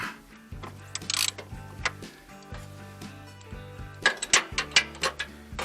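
A wrench loosening a nut on a car battery cable, with repeated metallic ratcheting clicks in short bursts, close and fairly quiet, separated by brief pauses.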